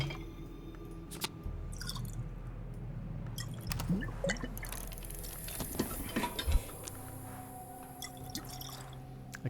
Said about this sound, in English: I'll pour the second as well.